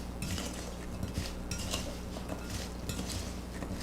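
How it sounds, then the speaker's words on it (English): A spoon scrapes and clinks steadily around a bowl as pecans are stirred through a sweet coating mixture, a close, continuous busy rattle of nuts and utensil against dish. "I am really stirring up these pecans"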